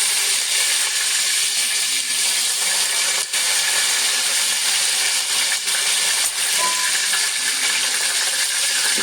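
Curry leaves sizzle and crackle in hot oil with fennel seeds, a loud, dense, steady hiss with scattered small pops, lasting throughout without speech.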